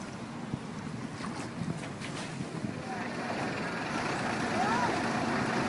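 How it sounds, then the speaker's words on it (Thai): A large boat runs along the flooded Chao Phraya river near Bang Na, giving a steady broadband engine and water rush that slowly grows louder over the whole span, with no talk. "นี่คือเรือใหญ่วิ่งสบายเลย"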